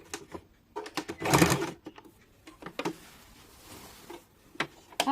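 Sewing machine running in short bursts while stitching the waistband of a petticoat, with one louder sustained run of stitching among quieter intermittent clicks and pauses.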